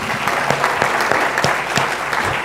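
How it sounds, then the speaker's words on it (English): An audience at a town hall meeting in Newark gives a round of applause, loud and fairly dense, with a few sharper individual claps standing out from the steady clapping. "would you please give him a round of applause?"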